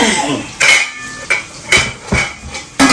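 Nigerian soup with bitter leaf and meat stock being stirred in a pot, close, loud clanks of a utensil against the metal pot at an irregular rhythm.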